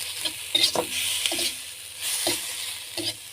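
Food sautéing on the lowest heat in a skillet, a soft constant sizzle broken by several stirring scrapes and taps, close and moderately loud.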